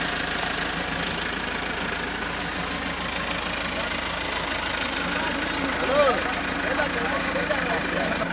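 A tractor engine runs nearby with a steady mid-pitched idling chug and a slight swell around the middle, while a voice speaks briefly over it.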